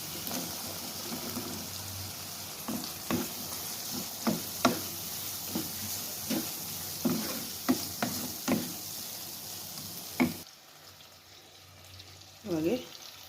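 A spoon knocks and scrapes steadily through peas, cauliflower (gobi) and minced keema with ginger-garlic paste in a sizzling frying pan, with clear repeated clacks over a soft fry hiss that drops away near the end.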